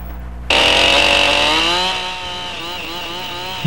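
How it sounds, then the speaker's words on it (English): A chainsaw starts cutting a log tenon at a log cabin build, a loud, steady high whine that kicks in abruptly, then drops slightly in pitch as the saw bogs into the wood. "More accuracy with the chainsaw is obtained by walking the saw down the cut"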